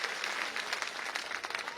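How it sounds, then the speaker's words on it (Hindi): Enthusiastic applause from a crowd at an outdoor political rally greeting an arriving guest, dense and steady clapping for a short burst with no voices over it. "एक बार और जोरदार तालियों से उनका अभिनंदन करें, स्वागत करें।"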